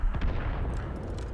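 Tank cannon fire in a tank video game, a low muffled boom near the start, followed by a dull rumbling battle bed that stays fairly steady to the end.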